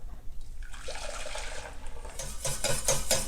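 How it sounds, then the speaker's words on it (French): Pastry cream whisked continuously in a saucepan, a soft wet swishing and stirring with light metallic taps against the pan that grow busier toward the end. "on fouette tout le temps"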